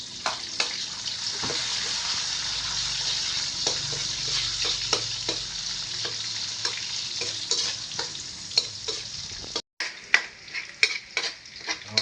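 Garlic and onion sauté in a hot pan with a steady, close sizzle, broken by repeated sharp scrapes and clicks of stirring, a brief pause near the end before the frying resumes.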